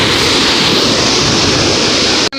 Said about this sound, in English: Another tiny river right here.